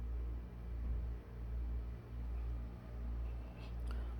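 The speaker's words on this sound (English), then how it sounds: "My AC compressor on my central air is running right now" A central air conditioning compressor runs nearby, a steady low mechanical hum droning throughout, loud and continuous with a slight pulsing rise and fall.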